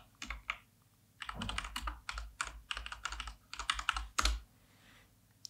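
Fingers type in quick bursts on a computer keyboard, close and fairly quiet, with brief pauses between runs of clicking keys and one heavier keystroke near the end.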